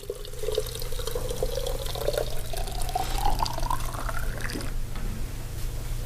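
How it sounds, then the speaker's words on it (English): Hot water pours steadily into a coffee maker, the gurgling fill tone rising in pitch as the vessel fills, heard up close and alone. "fill it up with hot water, almost to the top, just so I don't burn myself"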